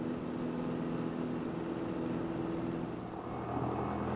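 A light propeller airplane on a soft-field takeoff: a steady, loud engine and propeller drone that holds level throughout, with a slight change in tone near the end.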